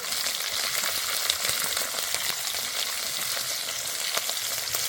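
Crushed garlic, whole cloves and slit green chillies frying in hot oil with a pinch of turmeric, producing a loud, steady crackling sizzle up close with faint stirring and no talk.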